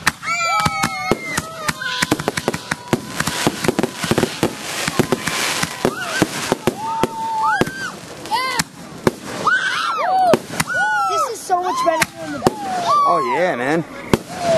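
Fireworks bursting one after another at a Georges display in 2011, loud repeated booms and crackles with whistling shells rising, while nearby spectators talk and cheer throughout.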